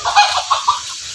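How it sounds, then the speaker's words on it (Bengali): European Silkie chickens let out a quick run of two or three soft clucks, close by and brief. "মুরগিগুলো দেশি মুরগির মতো চারিদিকে ঘুরে বেড়াচ্ছে, খাবার খাচ্ছে।"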